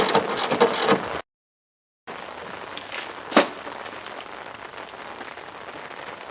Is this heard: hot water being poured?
no